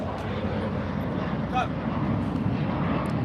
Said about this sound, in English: You guys can hear the airplanes.